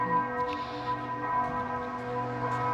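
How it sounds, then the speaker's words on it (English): A distant clock tower bell in Graz, Austria, ringing, its tone sustaining and overlapping as it hangs in the air, faint against outdoor background noise. "oh, it must be the Glock. That must be that clock tower up there."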